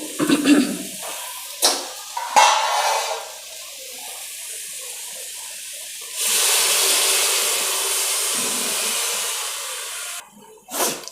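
Water pours into a pan of hilsa fish curry as a steady, broad rushing hiss lasting several seconds, preceded by a few brief knocks and clatters and ending abruptly.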